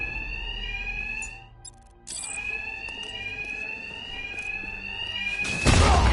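A fire alarm rings steadily in Batman Arkham Knight amid Two-Face's thugs, a loud continuous electronic tone that dips briefly, resumes, and swells with a harsh noisy burst near the end; no talking.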